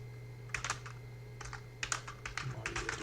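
Short bursts of keystrokes on a computer keyboard as a terminal command is typed, quick irregular clicks close by over a faint steady hum.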